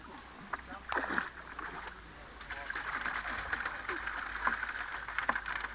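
Gold-bearing gravel drops into a water-fed screening drum at an outdoor prospecting outing, giving a close churning splash and gritty rattle over running water, with a person talking faintly behind it.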